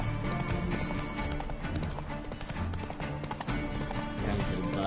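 A horse gallops in The Witcher 3 video game: a rapid, loud clip-clop of hooves pounding without pause, with a rumble of in-game ambience underneath.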